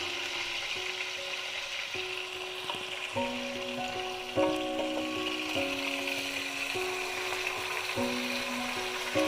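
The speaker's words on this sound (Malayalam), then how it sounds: "നമ്മുടെ ഫിഷിൻ്റെ ഒരു സൈഡൊന്ന് ജസ്റ്റ് ഒന്ന് ഫ്രൈ ആയിട്ടുണ്ട്" A whole uncut fish fries in a pan for restaurant-style fish molly, giving a moderate, even sizzle throughout with occasional soft knocks and shifts as it cooks.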